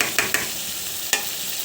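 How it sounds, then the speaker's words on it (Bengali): A spice paste of cumin, salt, turmeric and chilli powder sizzles in a pan for a home-style spicy chicken roast, with three quick scraping stirs over a steady hiss, close by and without voices. "এই যে পাশে মশলাটা দেখুন কত সুন্দর করে কষানো হয়ে গিয়েছে"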